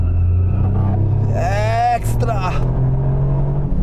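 Toyota GR Yaris rally car on a tarmac stage, a loud steady engine drone from inside the cabin with a brief rising whine mid-clip as someone speaks over it.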